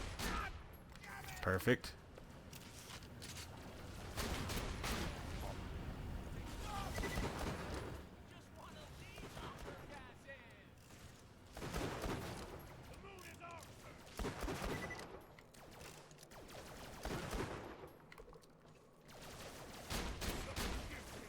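Bursts of shotgun fire from a Hyperion shotgun in Borderlands The Pre-Sequel, several heavy blasts spaced irregularly over the stretch, mixed with game effects while someone talks over parts of it.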